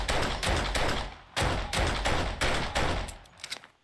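Rapid bursts of in-game gunfire in 7 Days To Die as a zombie is shot repeatedly, several loud clustered volleys with brief gaps, close and dominant with no talk over them.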